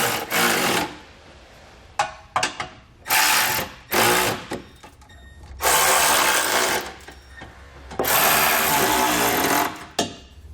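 Trailer hitch hardware bolts are snugged down with a ratchet or power tool in loud buzzing bursts of about a second each, separated by short pauses and small clicks.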